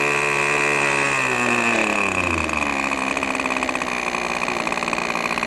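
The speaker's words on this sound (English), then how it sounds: "we're down to a nice enough idle where we'll be able to taxi the engine on the ground" Small radio control model airplane engine idling at low throttle, a steady buzzing drone that dips in pitch over the first seconds before settling into an even idle, loud and close, with no voices.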